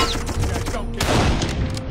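An enemy machine gun unit fires in Darkest of Days, a fast, dense rattle of shots that keeps up steadily, loud and close, over a rumbling battle background.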